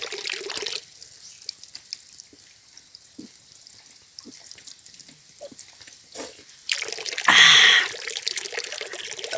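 Spring water pours steadily from a mountain source along a hillside hiking trail, a soft continuous trickle and splash heard close by with no talking, growing briefly louder and brighter toward the end.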